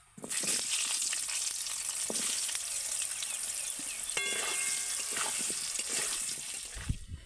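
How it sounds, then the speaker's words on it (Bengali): Steady, close sizzling of potatoes frying in hot oil, crackling continuously throughout with a few light clinks near the end. "এবার ওই একই তেলের মধ্যে আমি আলুগুলোকে ভেজে নেব"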